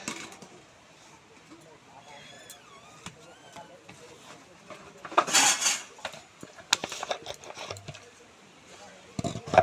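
Utensils and dishes clink and scrape while cooked rice is packed up, with sharp metallic knocks and one louder clatter in the middle, and a person talks in the background.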